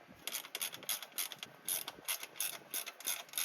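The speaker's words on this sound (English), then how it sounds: "I follow suit with the band clamp used to complete the extensions joint" A ratchet tightens an exhaust band clamp on a Jeep XJ slip joint, with rapid close clicking bursts in short strokes repeating through the clip, no voices.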